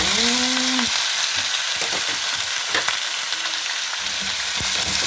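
Chicken pieces go into a hot pot for tinola and hit the oil with a loud, steady sizzle that runs throughout, with a few stirring clatters and scrapes on top.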